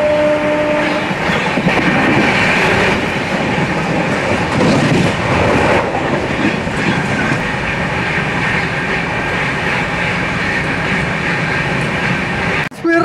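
Swarna Jayanti Express train speeding at over 115 km/h past a station, a loud continuous roar of wheels and rattling carriages with clickety-clack, heard close from onboard throughout.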